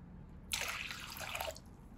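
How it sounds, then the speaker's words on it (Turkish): Warm milk poured from a glass into a kneading bowl already holding warm water makes a quiet, close liquid splash and trickle lasting about one second, with no other sound. "Ardından 1 su bardağı ılık sütümüzü ekliyoruz."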